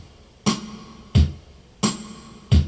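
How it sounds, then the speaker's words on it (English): Simple recorded drum beat playing back from a recorder, alternating kick and snare hits about every two-thirds of a second with faint hiss between the strikes, no talking. "Just a simple old drum beat there"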